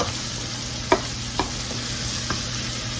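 Flour cooking in hot pork chop grease in a pan, a steady low sizzle with a few soft stirring scrapes, no voices.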